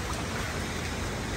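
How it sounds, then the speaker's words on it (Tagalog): Heavy rain and wind in Dubai make a dense, steady broadband rush, with constant hissing downpour and no voices. "Sobrang lakas ng hangin at ulan mga insan."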